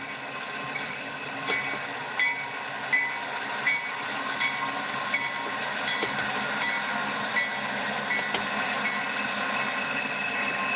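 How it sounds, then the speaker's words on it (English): CSX office car special train passing, a continuous rolling roar with a high metallic whine and faint rhythmic clicks of wheels over rail joints, steady and fairly loud. "let's take a close look at the train that's retracing the route of the great locomotive chase"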